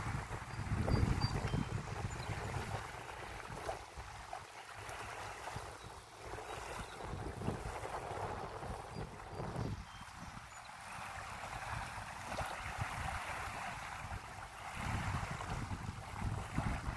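Waves on a windy lake, a continuous rushing wash under gusting wind, fairly close and steady for the whole stretch, with no voices.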